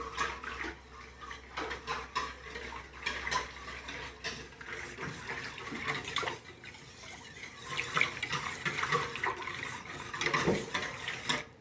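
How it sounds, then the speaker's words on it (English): An egg is whisked into warm melted bread-dough ingredients in a bowl, giving close, quiet, busy splashy bursts of stirring and sloshing that keep going throughout. "So you're just going to crack the whole egg in here and whisk that in."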